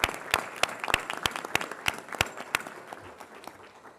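Applause from a small audience for employees at a board of trustees meeting, sparse distinct hand claps forming an irregular rhythm that thins out and fades toward the end, fairly quiet in a room.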